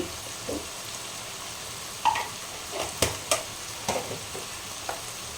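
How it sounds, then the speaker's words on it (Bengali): Spices and chickpeas are stirred and sautéed in a pan for masala chola, a low steady frying sizzle under a few sharp scrapes and clinks of the spoon against the pan, close and moderately loud with no talk. "এটা এইভাবে ভালোভাবে কষতে হবে"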